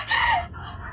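A hen gives a single loud, drawn-out squawking cluck close by, rising then trailing off into a quieter throaty tail within about a second.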